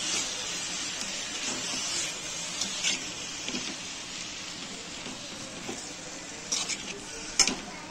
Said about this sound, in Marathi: आता आपण या मेथीला एकत्र करूया, मिक्स करूया मेथीला।